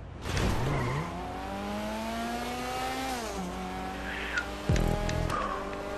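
Race cars in GTA 5 Online roar with rising and falling engine pitch through gear shifts, and tires squeal sharply near the end. Engine noise stays loud and steady throughout, with no talk.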